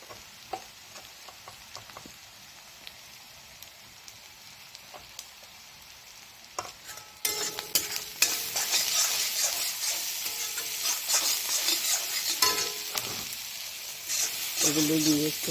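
Egg curry spices, salt and turmeric are stirred in a hot frying pan, first with quiet scraping taps, then a sudden rise into a steady, loud sizzle with repeated scraping of the spoon against the pan.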